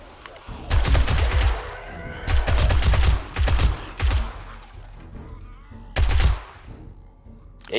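Loud bursts of automatic gunfire with armor-piercing rounds in 7 Days to Die on PS5 come in several separate volleys, each a dense rattle of close, booming shots with short pauses between them.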